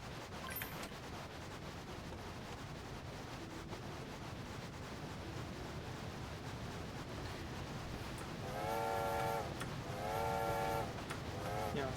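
A train rolls along the tracks in the video game A Bumpy Ride. A steady, low rumble runs throughout, and two whistle-like horn blasts sound near the end.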